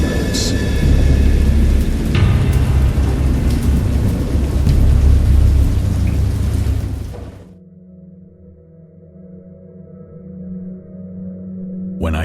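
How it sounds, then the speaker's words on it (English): Heavy rain and rolling thunder in a stormy sea scene from the Dagon video game, a loud roaring downpour that cuts off abruptly into a low, quieter hum. "I know that I heard pearls of thunder and other tones which nature utters only in her wildest moods"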